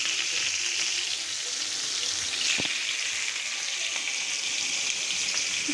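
Fish frying in a pan makes a continuous soft, bright sizzle with occasional small pops and spatters, steady and fairly quiet throughout.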